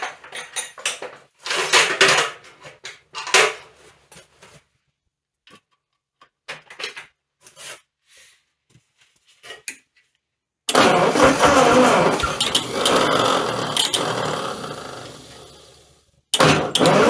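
A Ford 8N tractor with its head and fuel tank off cranks in several short bursts, then catches and runs loud and popping for several seconds before cutting out, and restarts at the very end.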